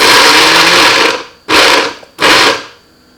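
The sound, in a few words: blender grinding chili peppers for kale kimchi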